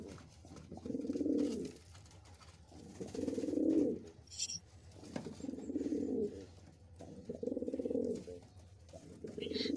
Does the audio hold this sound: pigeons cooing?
yes